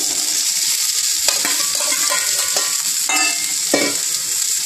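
Boiled raw banana pieces, cooked with salt and turmeric and drained, are tossed in a sizzling pan for poriyal, a steady frying hiss broken by several clear scraping stirs of a spatula, close and with no voices.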